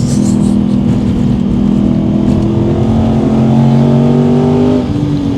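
Aston Martin Vantage accelerating hard on a wet, cold race track, its engine note climbing steadily through the revs, loud and close from inside the car for several seconds before easing off.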